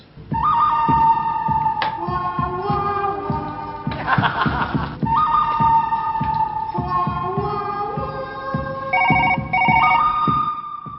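A telephone rings loudly in a Tulu comedy serial scene, a repeating melodic electronic ringtone that goes on for about eleven seconds, with short breaks and a brief burst of noise partway through.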